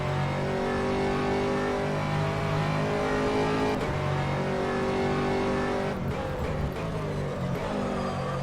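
An Aston Martin race car at Silverstone in a racing game, its engine droning loud and close with steady harmonic tone, pitch rising and falling through gear changes and corners, with no talk over it.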